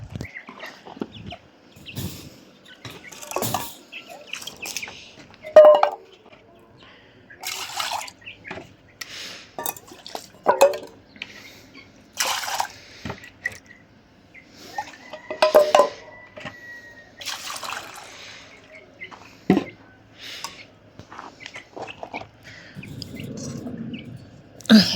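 Water poured and dripping while refilling a chicken waterer, intermittent splashes and drips mixed with nearby hen clucks and rooster sounds in a quiet yard.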